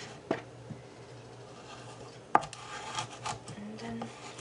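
A knife cuts through large carrots on a cutting board, giving a few sharp, separate chops with quieter scraping between them, close by.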